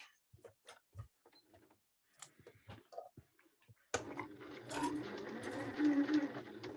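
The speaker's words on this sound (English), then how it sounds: "Rose, she'd forgotten to mute again, so we could hear her sewing." A home sewing machine running through an open microphone, scattered faint speech and small clicks first, then a sustained mechanical stitching chatter that continues for several seconds.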